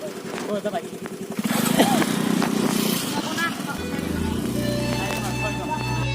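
A motorbike engine putters and then revs up nearby on the way to Dwijiri waterfall, settling into a steady idle hum, with people talking over it.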